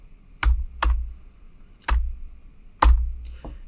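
Keyboard shortcuts are tapped on a computer keyboard in a Linux terminal: four or five sharp, close key clicks come singly with pauses between them. There is no talk.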